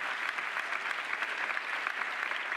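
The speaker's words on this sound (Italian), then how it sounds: "Fategli un altro applauso, secondo me." Audience at a literary festival event in Milan applauds, a faint, distant and steady patter of many hands clapping with no talk over it.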